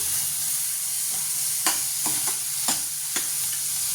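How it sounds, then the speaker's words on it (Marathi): Soaked moong dal sautéed in a pan for ridge gourd bhaji gives a steady close sizzle and frying hiss, with several sharp stirring scrapes from a spoon breaking through. "मुगाची डाळ लगेच भिजते, याला पण छान असं परतून घ्यायचं आहे मस्तपैकी"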